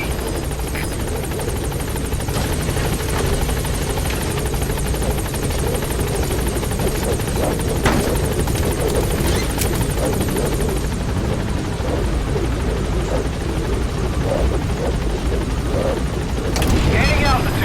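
The B-Quad helicopter from Metal Gear Solid 5 approaching the landing zone, its rotor roar loud and constant throughout, swelling slightly near the end, with no talk over it.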